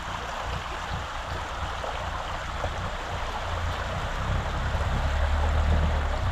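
River water rushes steadily at a shallow crossing while a motorbike rides through it, with a low engine-like rumble swelling toward the end beneath the constant broadband wash.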